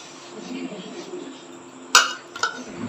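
Rice being served onto plates with utensils at a home dinner, heard as a soft scraping bed under a voice, then a sharp metallic clink of a spoon against a plate and a lighter second tap.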